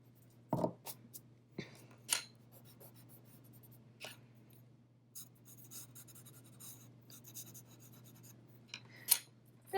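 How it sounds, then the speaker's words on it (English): Charcoal drawing being blended on paper with a paper stump or fingertip, quiet intermittent rubbing and scratching strokes over a low steady hum, close and faint. "I'm going to blend it again with my paper or my finger."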